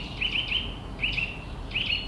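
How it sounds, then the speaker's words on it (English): Birds sing in trees, several bright repeated chirping phrases coming in three short bursts over a soft outdoor background hiss. "the trees are just full of all different kinds of singing birds"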